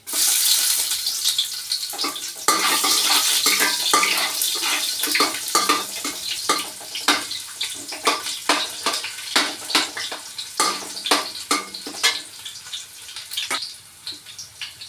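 Chopped onion tips into a hot pan and sizzles loudly, a steady frying hiss with sharp crackles and spoon scrapes that settle into a pulsing sizzle, with no voices.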